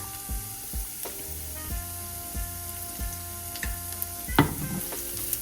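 Garlic sizzles in a pan for a creamy Tuscan chicken dish. A soft, steady frying hiss sits under rhythmic background music, and one brief louder stir or clatter comes near the end.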